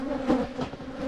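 A handful of honey bees hum around a very small nucleus hive, a low, steady buzz that swells slightly as an insect passes close.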